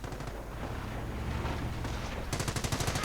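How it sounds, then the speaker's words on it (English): Heavy machine gun fire in a real-time strategy war game rattles in a steady stream of rapid bursts over a dense battle din, turning into a sharper, more distinct rhythmic hammering near the end. "these grenadiers are coming under heavy fire from the heavy machine gun"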